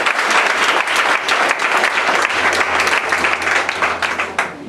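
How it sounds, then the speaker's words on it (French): A church congregation gives loud, dense, sustained applause at an evangelical teaching service, many hands clapping together without a break until it tails off at the very end. "Est-ce qu'on peut acclamer la parole de Dieu?"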